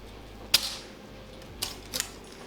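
Wooden stick dice are tossed in a stick dice game, giving a few sharp, quiet clatters as they land: one click, a pause, then two more close together.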